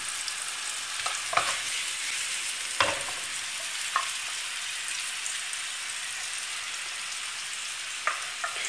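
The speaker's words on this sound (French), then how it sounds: "Je laisse revenir mes oignons pendant 5 minutes à découvert" Onions sautéing uncovered in a pan, a continuous soft sizzle with a few sharper pops and clicks scattered across it, heard alone without talk.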